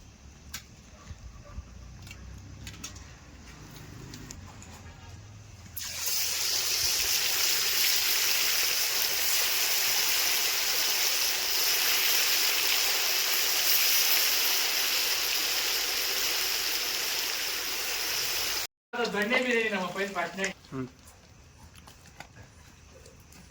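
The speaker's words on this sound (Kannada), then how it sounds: "ಮೀನು ಎಣ್ಣೆ ಕಾದಿದೆ ಇವಾಗ ಏನು ಮೀನು ಬಿಡಬೇಕು ಬಿಡಪ್ಪ ಭರತ್" Fish pieces coated in mint kebab masala sizzle in hot oil, a loud, steady crackling hiss that bursts on suddenly and runs on alone before a brief cut and some clatter.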